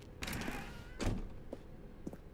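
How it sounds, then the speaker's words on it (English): A door opens as the player walks through a red door in The Stanley Parable: a soft thud followed by a louder heavy thunk, then a few faint clicks, with no voice. "Stanley walked through the red door."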